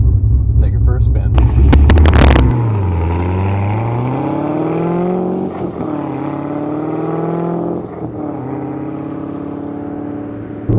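2012 Centennial Corvette Z06 with a Billy Boat exhaust, a loud blip of revs up close, then the engine note drops and climbs again as the car accelerates, with smooth shifts between gears.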